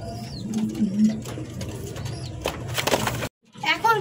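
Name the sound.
Lahori running pigeons cooing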